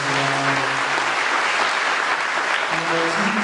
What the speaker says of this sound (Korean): 그냥 박수 한번 하죠.